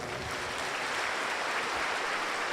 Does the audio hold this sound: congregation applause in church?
yes